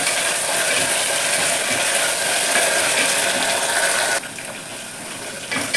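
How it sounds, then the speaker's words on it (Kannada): Ginger paste sizzling and frying in a pan while cooking masala rice, a steady loud crackling hiss that runs on without pause, easing slightly near the end. "ಇದು ಚೆನ್ನಾಗಿ ಫ್ರೈ ಆಗಬೇಕು."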